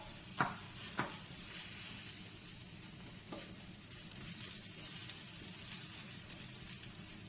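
Beans heat in a pan with a soft, steady sizzle, close and fairly quiet, broken by two or three sharp clinks early on and another near the middle, with no talk.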